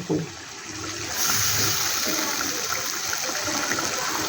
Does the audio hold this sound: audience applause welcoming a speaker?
no